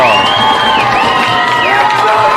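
A crowd at a high school lacrosse game between Rancho Cotate and Cardinal Newman cheers loudly and steadily, with shouts and whoops from many voices, including high-pitched young voices, rising over a continuous roar.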